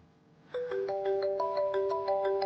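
A mobile phone rings with an incoming call, a bright electronic melody of stepped rising tones pulsing in a quick steady rhythm, loud and close, with no talking.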